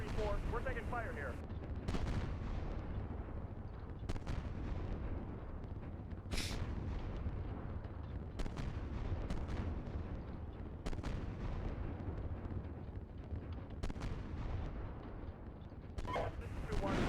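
Incoming gunfire and artillery striking around a CV90 tank in Steel Beasts Pro PE during a winter battle, with repeated heavy impacts every couple of seconds over a constant rumbling engine drone, as voices talk on the radio.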